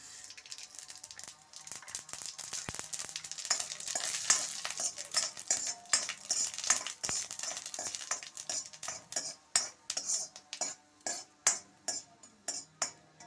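Coriander and mustard seeds fry in hot oil with a steady bright sizzle, while a spoon stirs and scrapes the pan in quick repeated strokes that grow more distinct and rhythmic toward the end.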